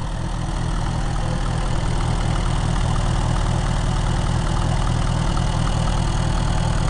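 A vintage Kohler 4 kW lightplant generator runs steadily at 1200 RPM, its low, even engine chug loud and close and continuing without pause.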